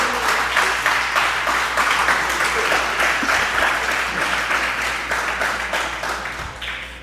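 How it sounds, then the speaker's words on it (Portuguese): Church congregation applauding during a worship service, a dense, sustained burst of many hands clapping that carries through the whole stretch and fades slightly near the end. "Dá um aplauso ao Senhor Jesus."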